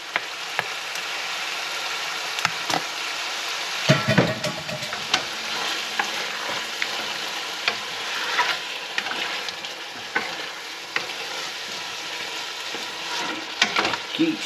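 Sauce cooking in a pan while being stirred, a steady sizzling bubble with scraping stir strokes and occasional clinks of the utensil, close and continuous.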